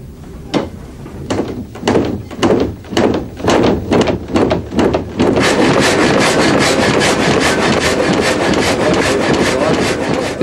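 An old sawmill saw cuts a log at the Gampenpass, first in a run of rhythmic rasping strokes, then in a steady, loud, continuous grinding roar as the blade bites through the wood.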